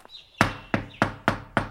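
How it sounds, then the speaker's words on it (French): Knocking on a door in an animated fairy tale of the wolf and the seven young goats: five sharp, evenly spaced knocks ring out close and clear with no one talking, and a faint high tone fades away just before the first knock. "Le loup retourna frapper à la porte des chevreaux."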